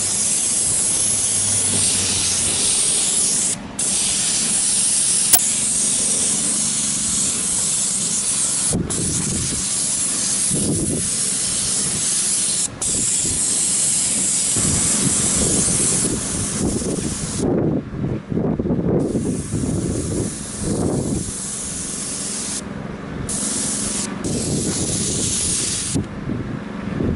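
Paint sprayer hissing steadily as it applies coating to a roof in Boca Raton, a continuous close spray with brief pauses and shifting wind-like noise.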